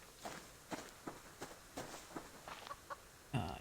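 A chicken in the survival game Subsistence gives a single cluck near the end, after a run of regular, fairly faint footsteps.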